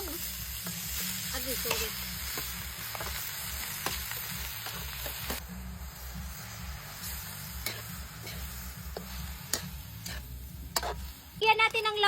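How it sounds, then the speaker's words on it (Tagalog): Pork innards for dinuguan sauté with onion and garlic in a hot pan, giving a continuous close sizzle broken by repeated scraping stirs, with a brief spoken word near the end. "gigisahin muna natin yung mga langmang loob para masarap"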